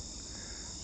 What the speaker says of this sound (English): There are crickets.